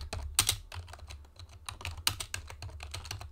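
A name is typed on a computer keyboard: a run of close, crisp key clicks in an uneven rhythm, with a few heavier strikes and short pauses between bursts, and no talk.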